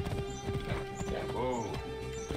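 Horse hooves in Assassin's Creed Origins clip-clop steadily at close range, with a brief whinny partway through and someone talking over the hoofbeats.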